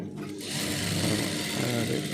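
Sewing machine stitching a blouse's lining and fabric, a soft, continuous mechanical whir with rapid rhythmic needle ticks, quiet and close, without speech.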